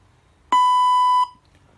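A single clean electronic tone from a robotic language translator sounds once, close and steady for under a second before cutting off, prompting the user to speak.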